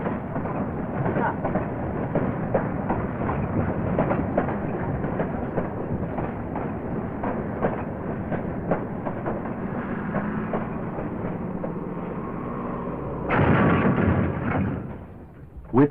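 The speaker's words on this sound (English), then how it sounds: "the train quickly begins to move again after merely changing the dark green engine for the red one" Train on the Finnish-Soviet railway border line after swapping a dark green Soviet engine for a red one, a steady low rumble and clatter of rolling stock with a brief louder surge near the end, muffled archival 1970s recording.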